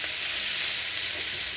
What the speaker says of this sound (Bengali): আর এখন জল দিয়ে দেব